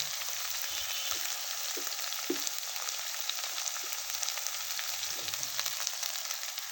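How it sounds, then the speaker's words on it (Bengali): A spice paste of cumin, garlic paste, dried chili powder and turmeric fries in a pan, giving a steady close sizzle with a few soft stirring knocks and no talking. "আমি মশলাটা কিন্তু ভেজে নিচ্ছি ভালোভাবে"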